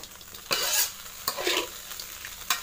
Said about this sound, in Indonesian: Setelah semua bumbu dicampur, kita aduk.